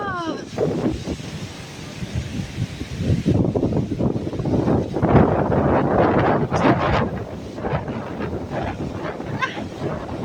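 Strong typhoon wind buffets the microphone in loud, roaring gusts, with voices shouting faintly through the din.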